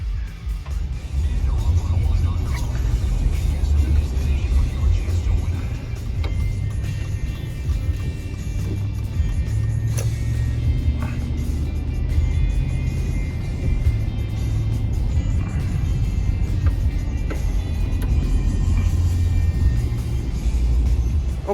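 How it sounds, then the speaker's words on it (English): A car driving along a road, heard from inside as a continuous low rumble of engine and tyre noise, steady and fairly loud for the whole stretch. "Okay, we're on the road."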